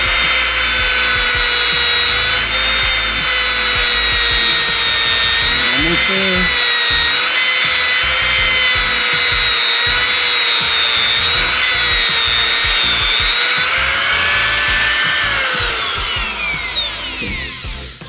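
A Dremel rotary tool cuts a slit into a bolt during installation of high-flow catalytic converters on an S2000. The high whine and grinding hold steady and close for the whole stretch, with a brief voice partway through.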